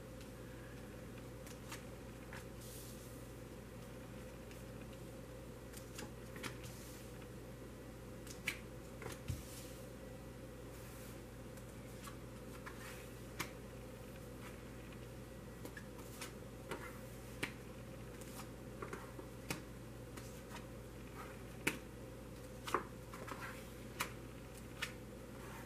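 Tarot cards are handled close up: soft scattered snaps and flicks, irregular and quiet, with light shuffling and slapping down over a low steady hum.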